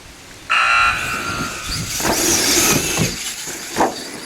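Electric RC racing trucks launch off the line at a championship points race, a bright whining motor buzz that starts suddenly and holds steady, with a few louder bursts.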